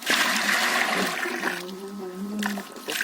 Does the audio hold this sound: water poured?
yes